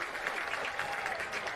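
A crowd roars and cheers steadily at a senior men's Australian rules football grand final between Katherine Camels and Ngukurr, a dense, continuous wash of distant voices and applause.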